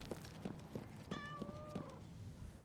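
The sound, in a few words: cat meowing in the video game Destiny Rising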